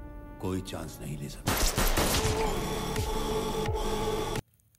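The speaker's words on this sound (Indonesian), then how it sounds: "Ranveer dan semua anak buahnya langsung memberondong peluru kepada Rajan." Gunfire erupts in a film scene as a dense burst of sharp rapid shots over a loud sustained roar, close and intense, before cutting off abruptly to near silence.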